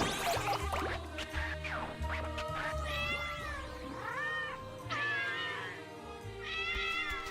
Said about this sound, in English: The army of cats is left.